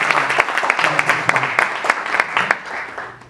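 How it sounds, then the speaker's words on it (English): An audience at an African energy panel discussion claps for a board chair being introduced, a brief burst of lively, uneven applause with individual sharp claps audible throughout. "A round of applause for him."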